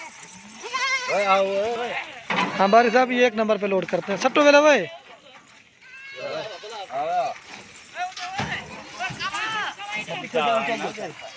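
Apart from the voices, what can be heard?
goats bleating while being loaded into vehicle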